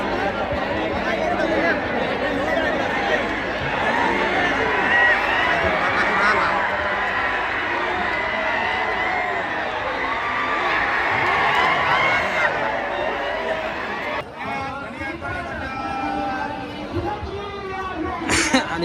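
A big crowd gathers at a bullock cart race ground, the Hind Kesari ground in Pedgaon, with continuous loud chatter and murmuring voices near and far, and a brief burst of louder shouting near the end.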